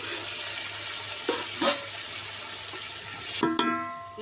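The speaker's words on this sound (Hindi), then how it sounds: "अब मैं इसमें थोड़ा सा पानी डालूँगी।" Water is poured into a pan of browned onions with ginger and garlic, a steady close rushing and hissing for about three seconds that ends in a short clatter.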